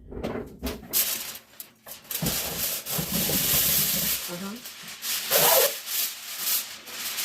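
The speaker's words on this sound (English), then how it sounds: "And I'm putting the aluminum foil on here" Aluminum foil crinkling and rustling as it is handled and folded over a red velvet cake, close, continuous scratchy crackles in bursts, with someone talking in between.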